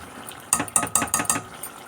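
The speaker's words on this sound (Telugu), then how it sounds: "వేసుకొని ఇలా కలుపుకోవాలి" A spoon stirring spice paste into oil in a metal pot for a non-vegetarian gravy, five quick rhythmic clinks and scrapes against the pot, close and clear with no talking.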